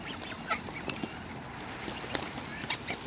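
Greylag geese with their goslings being fed, giving faint, scattered honks and soft chattering calls in quick irregular bursts against a quiet outdoor background.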